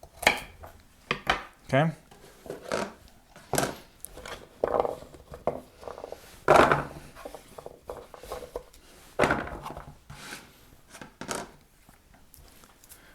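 Knife chops vegetables into 1-inch squares on a board: a close, irregular run of sharp knocks and clatters, some louder than others, with a brief spoken word partway through.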